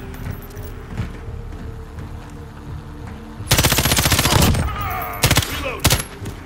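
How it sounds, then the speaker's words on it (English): Automatic gunfire in a first-person shooter video game comes as loud rapid bursts, one long volley and then two shorter ones, over steady background game noise. "he shot me straight through that wall"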